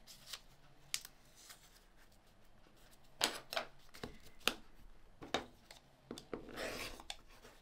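Quilt fabric pieces being trimmed, giving a series of soft, close snips and rustling cuts at irregular intervals, quiet and without talk.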